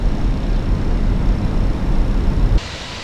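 Landing gear of a Fenix A320 extending in MSFS 2024, heard inside the cockpit as a steady loud low rumble and airflow roar that cuts to a quieter hum after about two and a half seconds.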